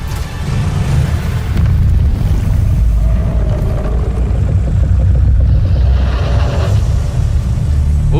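A deep rumbling explosion with a roaring, wind-like wash runs continuously through a fantasy video game trailer, loud and sustained with booming low end throughout.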